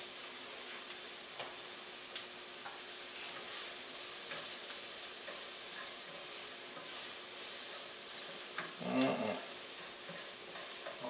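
Onions sautéing in a pan for a patty melt sizzle with a soft, steady crackle, broken by a few light stirring clicks and one brief louder scrape near the end; no voices.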